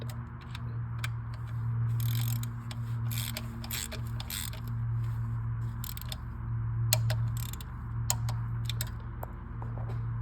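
A ratchet torque wrench tightens the valve cover bolts on a 2012-18 Ford Focus 2.0L engine, giving scattered sharp clicks over a steady low mechanical hum in a workshop.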